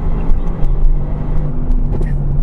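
A tuned 2018 Mercedes AMG GTR with its engine droning loud and steady, heard from inside the car as it pulls hard, with a sustained low rumble and no clear rise in pitch.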